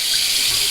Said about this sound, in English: fill it up with hot water, and then float the other one inside of it